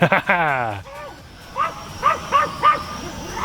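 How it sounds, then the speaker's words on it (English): A dog gives a run of short yips and barks, spaced every half second or so, close by, after a brief whining sound at the start. "That is the sound of a happy dog."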